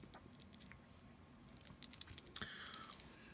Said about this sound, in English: And now we have a ringing bell.